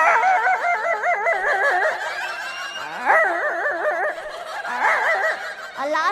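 A person imitates a fat dog barking, voicing wavering, warbling howls and gruff barks in several bursts with short pauses between, close and fairly loud.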